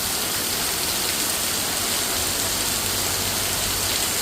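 Heavy night rain falls in Vazhoor, Kottayam, a steady, dense hiss of drops that holds even throughout with no gaps and no voices.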